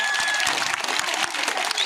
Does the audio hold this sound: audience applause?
yes